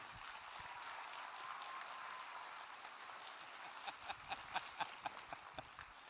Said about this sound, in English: give a round of applause to Mr. Sid Brown and the beginning band